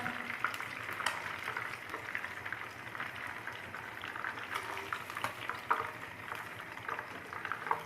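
Fish fries in hot oil for a crispy Lahori fish fry, a steady, close sizzle and crackle with small pops running unbroken throughout, and no voices over it.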